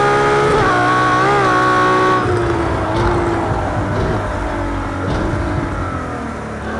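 A Ferrari LaFerrari engine in a racing video game drones loudly, rising and falling in pitch as it revs and shifts while the car slides through corners.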